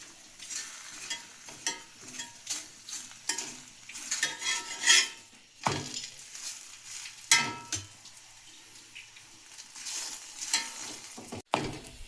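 Food cooking in oil in a pan for a Muharram special dish, with soft sizzling under repeated scraping and stirring, spatula clinks against the metal and a few sharp knocks, close and intermittent.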